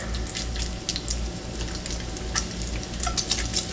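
Sunnyland hotel-brand bologna fries in a pan for a breakfast scramble, giving a continuous close sizzle and popping spatter with bursts of crackle throughout.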